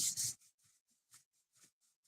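Cardstock being smoothed out by hand rubbing, starting with two loud close rasping strokes followed by a series of soft, faint brushing rubs.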